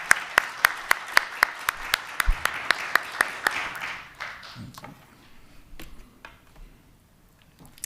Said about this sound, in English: a round of applause while he makes his way down here for us